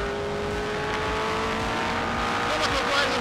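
A Tyrrell P34 six-wheeled Formula 1 car engine drones steadily up close, a loud continuous harmonic roar that swells slightly toward the end.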